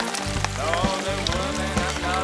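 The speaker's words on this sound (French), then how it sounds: "nous sommes à la partie de la friture. Le shore lunch." Pike fillets and rice balls frying in hot oil for an outdoor shore lunch, a steady close crackling sizzle under a low hum and faint background voices.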